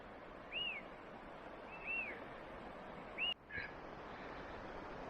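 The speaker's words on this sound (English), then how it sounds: "Can you hear those birds?" Birds call along a hiking trail on a hot morning: a few separate clear whistled notes, rising and falling, spaced out over a steady background hiss, with one sharp click near the end.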